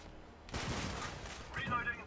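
Gunfire in the game Helldivers, a dense burst of shots starting abruptly and continuing in a steady rattle, with a brief higher metallic sound near the end.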